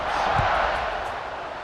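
Football stadium crowd roaring before a kickoff in a Wisconsin versus Minnesota game, a broad, steady wash of distant cheering and noise filling the short stretch without break.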